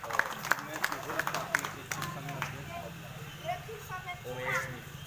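An audience at a devotional gathering claps, a scattered burst of sharp claps at first that blends into crowd murmur, with a voice speaking over the end.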